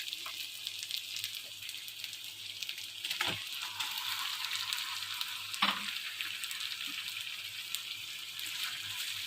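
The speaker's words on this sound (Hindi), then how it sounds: "और चिकन को हम अच्छे से फ्राई कर लेंगे ताकि ये पिंक से वाइट की तरफ चल जाए।" Chicken pieces fry in a karahi with a steady soft sizzle, broken by a couple of stirring scrapes, all fairly quiet, with no talking.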